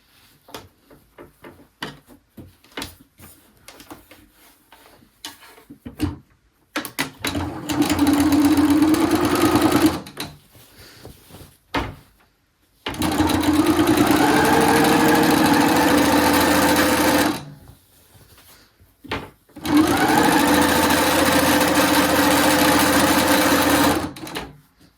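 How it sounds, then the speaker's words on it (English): A sewing machine stitches a quilt row in three long runs of steady, close whirring, separated by short pauses filled with light clicks and fabric handling, with no talk. "and we're gonna sew our second row."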